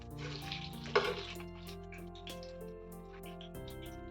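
Lakshman phala slices deep fry in hot oil, a steady bubbling sizzle running for a few seconds beneath background music.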